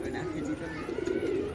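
Pigeons coo in a steady low warble, close and fairly loud, with a faint chirp above.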